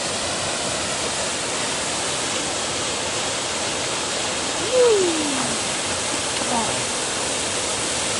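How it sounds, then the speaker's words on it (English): Rock Creek Falls, a waterfall, gives a steady, even broadband roar that fills the whole clip, with a brief rising-and-falling whistle-like call near the middle. "There's the falls."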